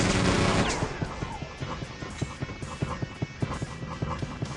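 Rapid gunfire from the shooter game Quake 2, a loud blast at the start followed by a steady train of sharp repeated shots under a droning game background.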